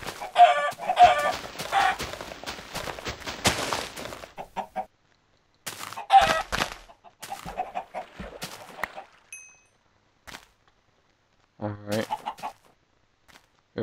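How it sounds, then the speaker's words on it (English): Chickens cluck in the video game Minecraft, short clucking bursts coming in several clusters with gaps of silence between them, moderately loud and close. "Catch the chicken. Two chickens."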